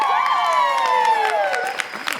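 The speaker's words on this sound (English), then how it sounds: "Applause for Annie Oakley." A theatre crowd at a P.T. Barnum-themed stage show claps and cheers for the performer playing Annie Oakley, a sustained wash of applause and whooping voices that holds steady before thinning toward the end.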